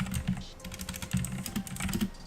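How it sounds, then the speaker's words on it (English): Fast, steady typing on a loud mechanical computer keyboard, with dense clacking keystrokes close up and no talking. "I know I have a mechanical keyboard that's kind of loud"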